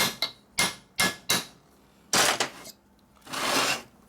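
Hammer blows on the shaft of a 1937 Harley-Davidson ULH Knucklehead four-speed transmission during a rebuild: about six sharp, close metallic strikes in an uneven rhythm, then a longer rough scraping burst.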